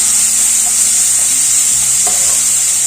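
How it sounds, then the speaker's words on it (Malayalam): A chili powder mixture fries in a pan as it is stirred, giving a loud, close, unbroken sizzling hiss with occasional scraping knocks of the spoon, and nobody speaks. "ഇനി ഒന്നുകൂടെ പൊടി അതിലോട്ടൊന്ന് മിക്സ് ചെയ്ത് കൊടുക്കാം."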